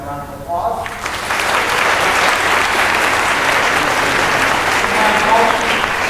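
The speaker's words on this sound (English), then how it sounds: "Please give them a round of applause" A school auditorium audience at a high school spring orchestra concert applauds for student officers, dense clapping that swells after a brief spoken introduction and stays steady and loud, with faint voices underneath.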